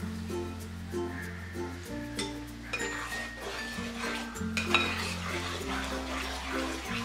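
Jackfruit paste being stirred and roasted dry in a pan, with soft scraping and occasional clinks of a spoon against the metal under a steady low background hum.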